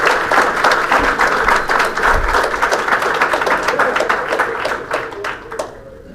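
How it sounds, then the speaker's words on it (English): A school board meeting crowd applauds a speaker with loud, dense clapping that carries on for several seconds, then thins out and fades near the end. "we're going to have to hold applause in order to get through all 40 speakers"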